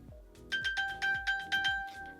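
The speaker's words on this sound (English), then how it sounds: "I ping my phone so many times." An iPhone on silent, pinged from an Apple Watch, gives a bright chiming alert that repeats about five times in quick succession, clear and fairly close, with no talking.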